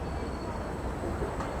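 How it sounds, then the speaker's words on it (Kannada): A steady, loud rumble of a moving metro train heard from inside a car, with a constant high whine over the dense roar and no break. "after long time ಮೆಟ್ರೋಲ್ಲಿ ಬರ್ತಾಯಿದ್ದೀನಿ"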